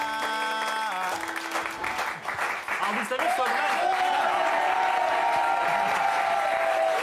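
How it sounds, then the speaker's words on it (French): A studio audience on a French TV entertainment programme about reality television breaks into loud, sustained applause that fills the second half. Someone speaks briefly just before it begins, and jingle-like tones sound over the opening. "Ils applaudissent beaucoup aujourd'hui, ils sont très en forme."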